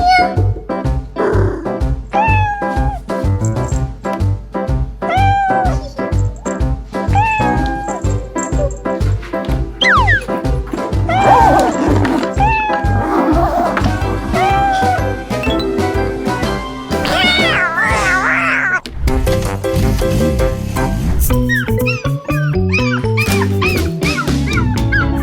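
A pet cat meows in repeated, wavering cries during a children's pretend vet game, mixed with dog barks, yips and whimpers over a continuous bed of lively music.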